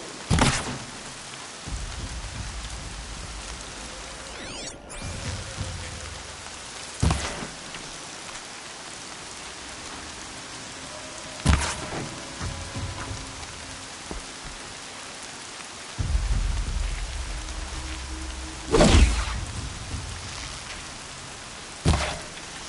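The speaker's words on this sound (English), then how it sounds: "Everything's sharp and moving in the rain." Rain falls steadily in the video game Horizon Zero Dawn, a constant broad hiss of drops on surfaces broken by several heavy thunder booms and rumbles at irregular intervals.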